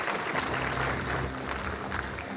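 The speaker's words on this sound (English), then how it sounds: "So another round of applause for Joshua and Emmanuel as they leave stage." Steady applause from a conference audience at a Safaricom engineering summit as presenters leave the stage, a dense continuous clapping texture lasting the whole moment without speech.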